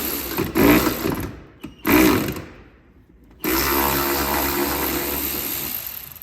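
Power tool spins out 10 mm bolts from the mud flaps of a 2024+ fourth-generation Toyota Tacoma in two short whirring bursts, followed by a steadier, louder mechanical run close by with no talking.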